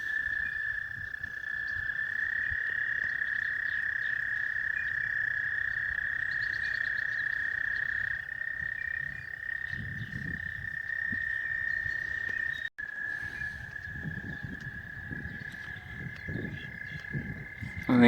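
A steady high-pitched chorus of frogs trills continuously outdoors in Iowa, loud and unbroken, with faint low rumbles beneath.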